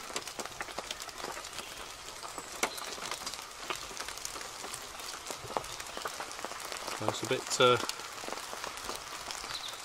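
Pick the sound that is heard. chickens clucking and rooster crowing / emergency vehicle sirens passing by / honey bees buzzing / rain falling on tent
rain falling on tent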